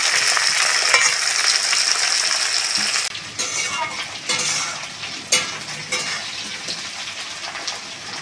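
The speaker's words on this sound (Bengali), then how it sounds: "আলুটা তেলের মধ্যে ভালো করে ভাজবো।" Potato pieces fry in hot oil with a loud, dense sizzle that eases after a few seconds into quieter bubbling, punctuated by several stirring clinks and scrapes.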